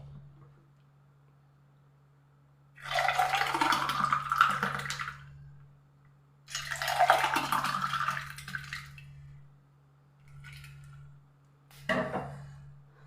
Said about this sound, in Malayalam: നമ്മൾ റെഡിയാക്കി വെച്ചിട്ടുള്ള നമ്മുടെ ഈ ഒരു ജ്യൂസ് നമ്മുടെ ഈ ഒരു ഗ്ലാസ്സിലേക്ക് അങ്ങ് ഒഴിക്കാം